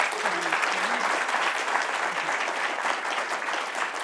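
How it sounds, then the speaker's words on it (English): An audience at a panel discussion claps steadily for several seconds, sustained applause with faint voices underneath. "Big round of applause, please, for our amazing panel."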